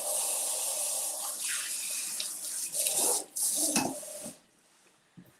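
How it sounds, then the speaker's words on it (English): Water runs from a kitchen tap while hands are washed underneath, a steady splashing stream with rubbing and sloshing bursts, then the flow cuts off near the end. "Let me wash my hands."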